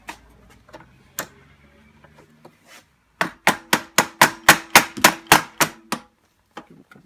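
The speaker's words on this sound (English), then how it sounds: "Give a couple taps and it comes right off" The back of a ratchet taps a trim piece off a metal bracket inside a Mazda Miata. A few scattered clicks come first, then a rapid run of about ten sharp, close knocks.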